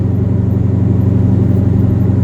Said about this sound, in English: If you can put up with a car being loud